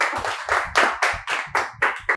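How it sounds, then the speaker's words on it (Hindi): A room of trainees at an AC PCB repair institute claps for a fellow student: about nine loud, evenly spaced bursts of hand claps, close and steady, with no talking. "चलिए एक बार इनके लिए भी जोरदार ताली"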